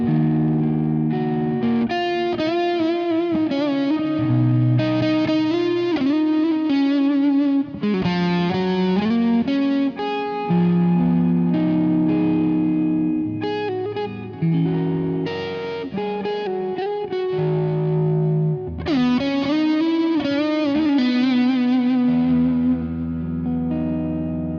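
A budget Strat-style electric guitar with humbucker and P90 pickups plays loud, distorted chords and riffs through effects with a touch of chorus and reverb. It rings out continuously, with no talking.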